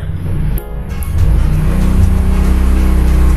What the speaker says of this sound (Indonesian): bentar ada suara motor